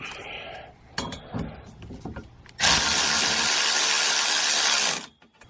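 Power tool driving and tightening bolts during assembly of a platform bed frame, a few short clicks and clanks first, then a loud, steady whir lasting about two and a half seconds before stopping.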